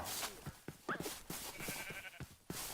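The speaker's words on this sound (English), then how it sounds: "Hello, sheep." A sheep bleats in Minecraft, a short, faint cry heard among quiet game ambience and soft clicking sounds.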